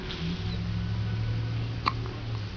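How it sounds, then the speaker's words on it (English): A newborn baby's hiccup gives one brief, sharp sound near the middle, over a steady low hum in a quiet room. "first out of womb hiccups"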